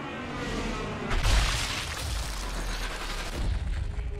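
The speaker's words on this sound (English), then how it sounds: "That plane does not last long overhead with the sound." An airplane in the video game Sniper Elite 3 passes overhead with a loud, broad roar that rises about a second in and holds steady alongside deep low rumble, with no talking.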